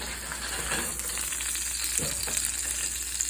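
A seasoned flounder fillet pan-frying, giving a steady close sizzle and spatter over a low hum, with a faint scrape near the middle and a brief spoken word at the start.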